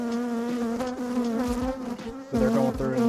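Honey bees buzz at the hive during the sourwood nectar flow in western North Carolina, a close, dense drone of overlapping wingbeat tones that rises and dips as individual bees pass near.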